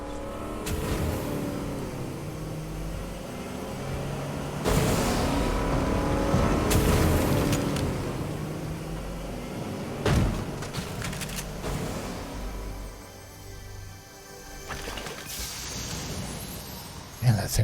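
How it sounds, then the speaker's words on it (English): A truck in the Fortnite battle royale game on a construction zone map, its engine rumbling and revving nearby over roughly fifteen seconds amid scattered game effects, while a player talks over it. "It's impossible to hear where that truck was."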